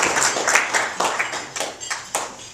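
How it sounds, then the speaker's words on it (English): Applause from an audience at the Hudson Valley RAP 2018 awards event, honoring volunteers: a steady patter of many hands clapping at moderate volume, with small swells, no voices standing out. "Please give a big round of applause for our hardworking volunteers."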